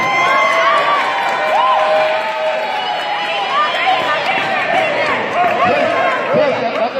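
Spectators at a kickboxing match cheer and shout loudly, with excited voices, whoops and yelling from a close, lively crowd throughout.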